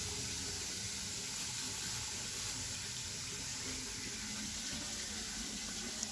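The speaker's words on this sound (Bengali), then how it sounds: "এবার জল দিয়ে দিই একটু বেশি করে, নাহলে গরমেতে গাছগুলো নষ্ট হয়ে যাবে" Water poured over garden plants, a continuous soft splashing flow at low level with no talk.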